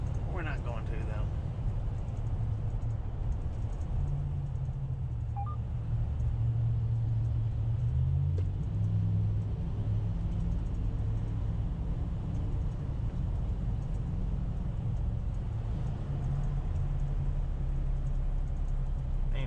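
A truck rolls through the long Eisenhower Tunnel in the Rocky Mountains, a steady low engine rumble with enclosed road roar that continues unchanged, while people talk over it.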